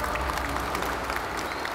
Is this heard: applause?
yes